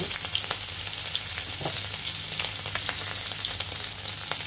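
Chopped onion and green chili sizzle in leftover fish-frying oil, a steady close crackle with scattered pops throughout, no voices.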